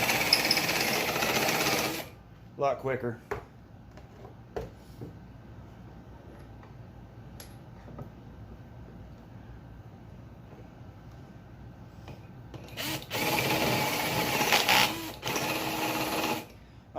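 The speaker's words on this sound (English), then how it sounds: "I'm going to take a step drill bit to deburr the inside" A cordless drill fitted with a step drill bit deburrs the inside of a homemade small engine intake, buzzing loudly in two bursts at the start and end, with a few brief spoken words in the quieter stretch between.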